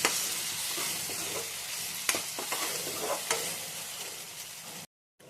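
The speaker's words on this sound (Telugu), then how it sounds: "ఎర్రగా వేయించుకోండి మసాలాని." A masala paste of spices, ginger, garlic and onion sizzles steadily in hot oil while a spoon scrapes and stirs it in bursts, the frying loud and continuous before cutting off abruptly near the end.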